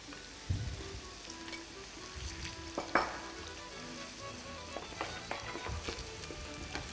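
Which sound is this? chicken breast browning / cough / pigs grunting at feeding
chicken breast browning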